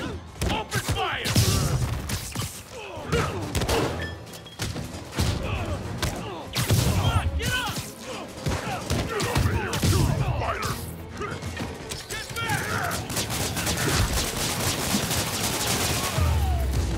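Enemies open fire in Marvel's Spider-Man Remastered, with dense, loud bursts of gunfire mixed with crashes and heavy thuds throughout a hectic brawl, and voices calling out over the combat.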